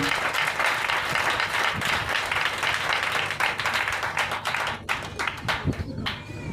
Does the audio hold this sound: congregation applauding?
yes